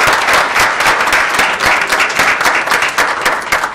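Audience at a Hanukkah play breaks into sustained, dense applause, many hands clapping steadily and loudly throughout with no break.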